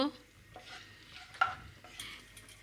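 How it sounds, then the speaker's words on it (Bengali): Whole cinnamon pieces, cardamom pods, cloves and black peppercorns frying in a pan for a cauliflower rezala, a soft sizzle with light stirring scrapes and one sharp clink, close and fairly quiet. "দুটুকরো দারচিনি চারটে এলাচ চার পাঁচটা লবঙ্গ চার পাঁচটা গোলমরিচ এটা একটু ভাজবো ভেজে নেব"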